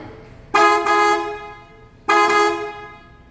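Two loud, close blasts from a PIAA horn on a Ford Ranger Raptor, the first about a second long and the second slightly shorter, with a brief pause between them.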